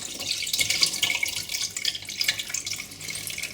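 Homemade lamb stock poured slowly through a sieve into a large saucepan gives a continuous close trickling and splashing of liquid, uneven but unbroken throughout.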